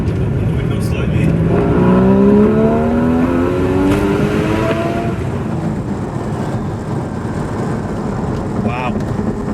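A Porsche GT4 engine revs hard in a tunnel after a downshift, its rising note swelling and echoing loudly for several seconds before settling into a steady drone, with a voice heard over it.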